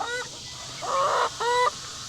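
Chickens in a coop cluck and squawk in three short close bursts, loud and clear with no talking.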